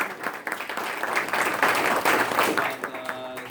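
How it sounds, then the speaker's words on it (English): An audience claps at a live mobile-app startup pitch event, a dense wash of applause throughout with some crowd voices mixed in. "Let's have a round of applause for Lott"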